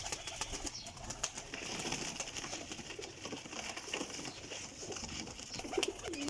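Pigeons coo softly and continuously in the background, a dense, fairly faint murmur of calls under steady ambient noise with scattered rustles and clicks.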